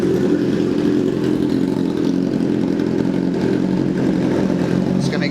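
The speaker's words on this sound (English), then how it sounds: "Just gonna give it a little rev," A cold Kawasaki ZX-10R motorcycle engine held at a loud, steady rev, its dense mechanical roar sustained close by for several seconds without a break.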